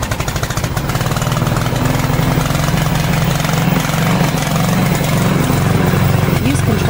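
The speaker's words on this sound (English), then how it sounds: "Press this button to start the engine." The engine of a brushless remote-control crawler weed mower runs with a loud, steady, close drone and a constant low buzzing pulse that does not let up.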